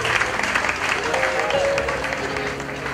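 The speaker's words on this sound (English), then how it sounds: "Give our business community a round of applause" Sustained audience applause for the business community of the Virgin Islands, dense steady clapping filling the hall for about three seconds with a faint voice or tone threading through.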